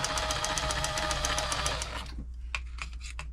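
A Bernette b35 sewing machine running during servicing, a fast, steady mechanical whirr with rapid rhythmic ticking that drops to a quieter, slower clatter of separate knocks near the end, close and alone.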